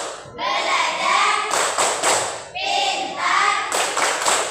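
Young pupils led by their teacher perform the '3C' clapping chant, loud sung phrases trading off with brisk groups of hand claps in a regular call-and-clap pattern, close by.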